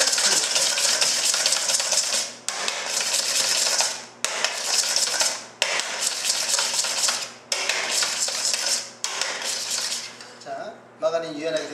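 Fast, rattling whisk strokes beating margarine in a bowl for a chestnut bread topping, loud and close, in repeated bursts of about two seconds separated by short pauses.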